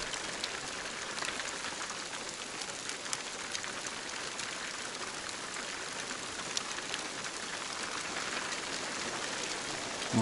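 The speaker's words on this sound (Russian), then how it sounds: "какой дождик пошел." Rain falls steadily on a spring overnight hike, a soft, even hiss of drops pattering on surfaces with faint scattered ticks, quiet and continuous throughout.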